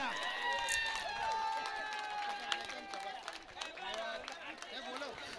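At a cricket tournament prize ceremony, an audience claps steadily, a dense crowd applause that continues throughout at moderate loudness, with a few louder individual claps and some tonal ringing over it.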